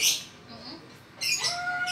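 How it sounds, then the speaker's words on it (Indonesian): A lory parrot calls at a bird market, loud harsh squawks and a shrill whistled note at close range, with a brief gap between bursts and no talking. "Ini namanya jenis nuri apa?"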